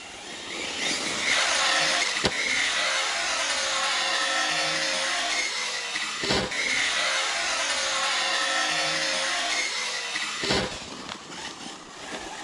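A 6S Arrma Typhon RC car runs at full throttle on a back track, a loud continuous high-pitched electric motor whine that holds steady with a few sharp thumps from landings.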